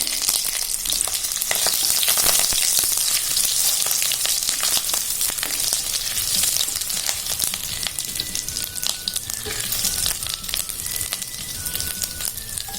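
Curry leaves crackle and sizzle loudly in hot oil, a continuous spitting fry with occasional sharper pops and stirring.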